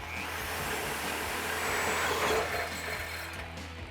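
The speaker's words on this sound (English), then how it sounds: "Now we're just gonna take a die grinder, clean up the edges a little bit" A die grinder cleans up the cut edges of factory exhaust pipe on a 2018-2020 Mustang S550 being fitted with a Roush axle-back, a steady loud whirring grind with rasping texture running throughout with no talk.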